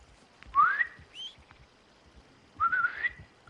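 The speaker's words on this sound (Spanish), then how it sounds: "Menos mal que le pegué el silbido al caballo." A player whistles for a horse in Red Dead Redemption 2: two clear rising whistles, about two seconds apart, each sliding upward and holding, over a quiet game background.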